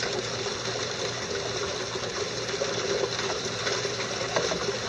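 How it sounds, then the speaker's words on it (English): Water and gravel run in a steady, dense rush through an Angus MacKirk Predator III cleanup sluice and over its scrubber mat, with a continuous close wash of flow and no talking. "Notice how the material is going over the scrubber mat of the Angus sluice, separating that material nicely"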